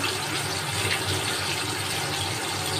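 Boiled dal poured from a vessel into a pan of lightly stir-fried ingredients, making a brief, continuous watery gush of liquid splashing into the pan.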